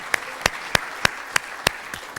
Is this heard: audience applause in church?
yes